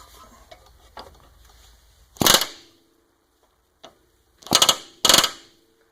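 An air impact gun working on a frozen bolt, firing in short, loud hammering bursts: one burst, a pause with a faint tick, then two more bursts close together, near and with no talk.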